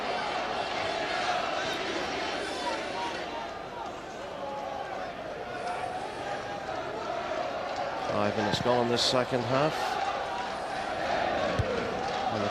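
A football crowd at a Linfield versus Glentoran match sends up a broad roar and murmur of a large stadium in the second half, swelling briefly, beneath a commentator talking throughout.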